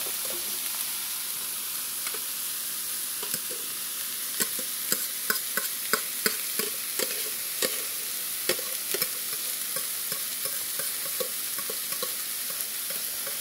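Rice frying with onions in a pan for fried rice, a constant sizzle under a busy run of quick clicking spatula strokes that crowd together midway, then thin out.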